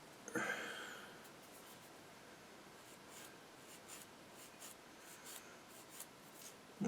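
Soft, steady scratchy rubbing of sanding sprue gates on a plastic Tamiya SU-76M model kit, close and quiet, with a few brief louder scrapes and no talking.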